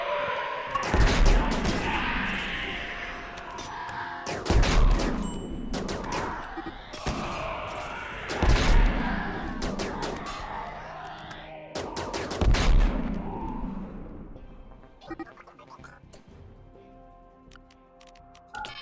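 Gunfire volleys in the colony game RimWorld come as four heavy bursts of overlapping shots, roughly every four seconds, each fading out before the next. The clip ends in quieter ticking.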